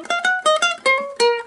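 Ukulele plucking the introduction of a theme, a short phrase of about six bright, ringing single notes in a steady lilting rhythm, close and clear with no voices.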